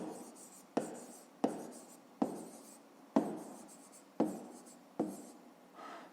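A pen or pencil writes numbers during a fifth-grade math exercise, giving six or seven close, distinct scratching strokes at an even pace, each starting sharply and trailing off, quiet and with no talking.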